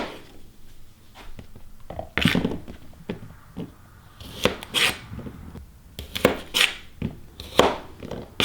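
A knife chopping jalapenos on a cutting board for cowboy candy: a series of close, sharp, uneven chops and scrapes, some taps loud and crisp, with short pauses between them and no talking.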